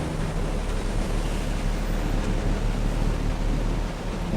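Rinsing water sprays steadily in a drive-through car wash lane, a loud, even hiss with no pauses, heard alone.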